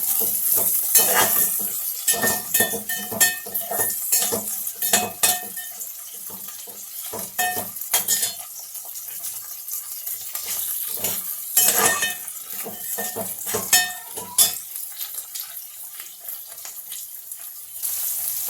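Green chillies stirred into soya biryani in a pan, with scraping, clinking utensil sounds and a light sizzle running steadily throughout, no talking.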